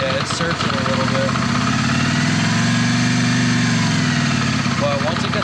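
Yamaha Virago 535 motorcycle engine idling unevenly after years unused, its loud low rumble wavering and hunting steadily throughout, close by.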